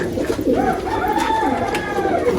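Paired Teddy and Haifa pigeons cooing softly in a loft, a few overlapping rolling coos close by against a faint background hum.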